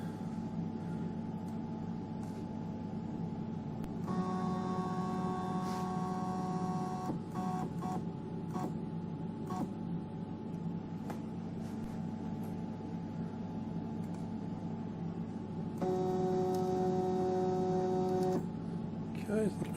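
An EMCO Compact 5 CNC lathe jogs its axes with two stretches of whining, tonal motor drone, each several seconds long, over a constant workshop hum. Scattered light clicks fall between the runs.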